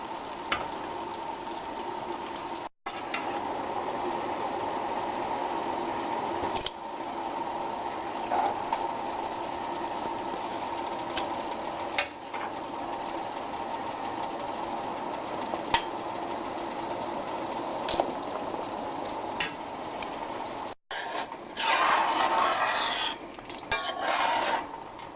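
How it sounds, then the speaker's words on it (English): Okra and sausage mix being stirred into a pot of okra soup, a steady mid-level sizzling and watery stirring texture running continuously with a few brief pauses and soft clinks. "So next I will be adding the okra and sausage mix."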